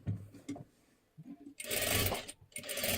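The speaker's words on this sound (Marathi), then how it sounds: "आता ही सुद्धा बाजू मुंडा हे अशा पद्धतीने व्यवस्थित शिलाई देऊन घ्यायची आहे." A sewing machine stitching the seam of a one-piece jacket, a few short taps and then a louder sustained whirring run of stitches, close and without talk.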